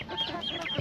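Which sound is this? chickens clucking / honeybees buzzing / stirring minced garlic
chickens clucking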